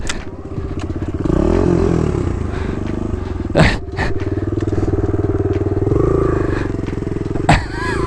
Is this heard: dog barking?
no